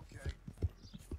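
Horse hooves clip-clop in Red Dead Redemption 2, an Andalusian horse walking at a slow steady pace, with three or four soft, evenly spaced thuds close by and no one talking over them.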